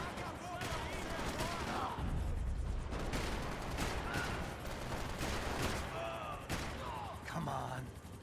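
Gunfire from the third-person shooter Max Payne, scattered sharp shots and bursts over a busy, noisy game scene, with a voice talking through part of it.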